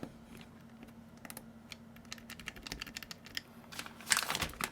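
Keys clack on a KBD67 Lite gasket-mount mechanical keyboard with stock, unlubed switches: quiet, uneven bursts of close typing that thicken into a faster, louder flurry near the end, with no voices.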